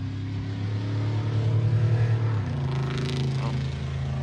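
A Ram 2500 pickup truck's exhaust drones with a deep, steady rumble, then its pitch shifts as the engine is revved, heard close and continuous.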